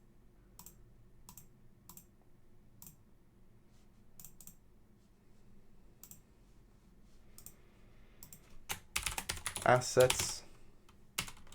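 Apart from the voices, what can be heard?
typing on a computer keyboard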